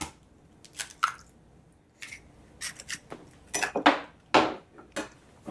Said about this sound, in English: I'm going to crack my egg.